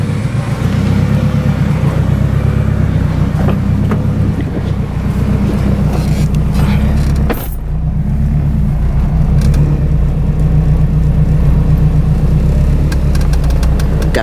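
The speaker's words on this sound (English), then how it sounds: "Got the car warming up right now, so we'll be on our way heading there." A Honda RSX with a K-Pro engine management setup warming up at idle, a loud steady low rumble with wind noise across the microphone and a brief dip partway through.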